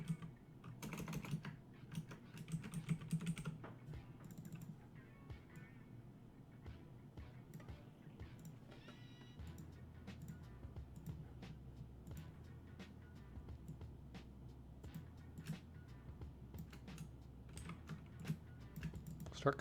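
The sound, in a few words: typing on a computer keyboard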